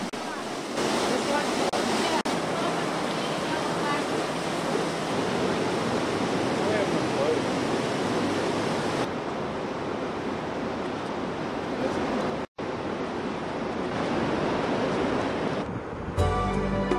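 A continuous rush of flowing water fills the scene, loud and steady like a fast creek or cascade, at Deer Creek near the Colorado River, with a brief cut near the end.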